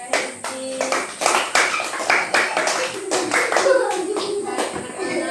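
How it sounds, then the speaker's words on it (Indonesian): Irregular bursts of hand clapping in a primary school classroom, with sharp separate claps building into rhythmic groups, mixed with children's voices and a teacher speaking. "Terima kasih tepuk tangan buat Kakak Hesti."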